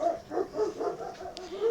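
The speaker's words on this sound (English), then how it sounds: "And Mummy's barking because we're getting a delivery." A mother dog barks at a delivery, heard as faint, muffled yips and whines from a distance in a quiet room.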